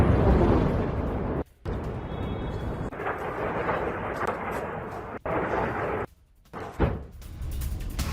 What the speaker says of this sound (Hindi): मेहराबाद हवाई अड्डे के पास एक बार फिर से धमाका हुआ